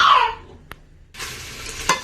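Beef fries in a pot with a brief scrape of stirring and a faint clink; quiet frying hiss continues.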